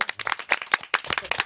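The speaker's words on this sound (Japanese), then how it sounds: "はい、拍手。" A short burst of studio audience clapping on a Japanese radio program as a guest actor is introduced, a few uneven claps from a small group, brief and close.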